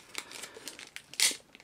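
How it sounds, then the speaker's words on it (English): A plastic bag crinkles as it is opened around a boxed He-Man and the Masters of the Universe cartoon guide book, with soft close rustles and one louder crisp tear of plastic near the end, no talking. "it's still in its original plastic bag, which I have opened, so let's open it properly"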